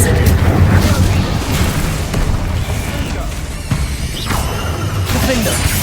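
An Incendio fire spell in Hogwarts Legacy bursts with booming, crackling blasts amid chaotic combat noise, and a voice speaks over the impacts.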